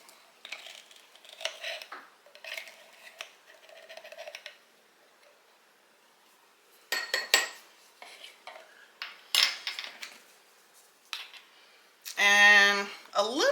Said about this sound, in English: you just want to mix that all around. Just get it combined.